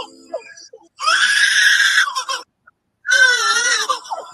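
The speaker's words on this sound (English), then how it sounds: "Listen to Lyrebird." Two loud, harsh, screeching lyrebird calls, each lasting over a second and separated by a brief silence, with a few faint chirps before them.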